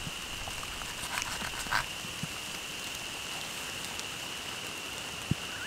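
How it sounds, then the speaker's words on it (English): Heavy rain falls on a tarp at a campsite, a steady soft patter with a few sharper drops and faint taps, quiet and continuous with no talking. "that rain is really starting to get heavy now"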